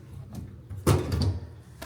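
Metal door of an electric load center panel swinging open indoors, a single close clunk and rattle followed by a faint scrape, no talking.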